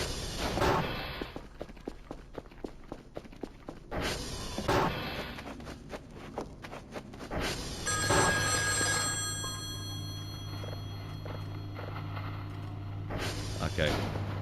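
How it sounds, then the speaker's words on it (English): Telephone ringing inside the horror game Voices of the Void, a repeated ringing tone returning in bursts between footsteps and thuds, heard alongside people talking. "I hear the phone too"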